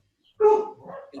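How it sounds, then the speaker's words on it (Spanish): A small dog gives a sharp bark followed by a shorter, softer yip, close by and alone in an otherwise quiet room. "El perrito ahí hace estragos."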